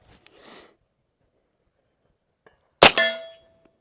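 A single sharp, loud report from a suppressed PA-15 rifle in .300 Blackout fitted with an Energetic Peak 30 suppressor rings out close by, after a faint rustle and near silence.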